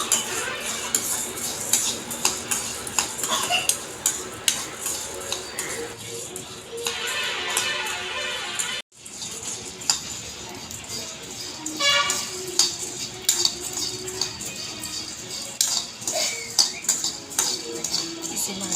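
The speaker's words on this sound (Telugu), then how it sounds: "తర్వాత ధనియాలను కూడా బ్రౌన్ కలర్ వచ్చేంత వరకు ఇలా తిప్పుతూ బాగా వేయించుకోవాలి" Coriander seeds dry-roasting in a pan rattle and scrape continuously under a stirring spatula, with busy clicking and a brief pause partway through.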